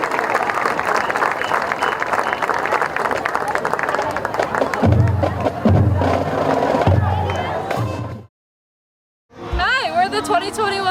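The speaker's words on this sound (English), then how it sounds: "how about a nice round of applause for your inductees into the 2021 Shaler Area Athletic Hall of Fame" A stadium crowd claps and cheers for Hall of Fame inductees at a high school football game, a loud roar of applause with shouts, joined midway by booming band or drum hits, then a brief silence and a voice.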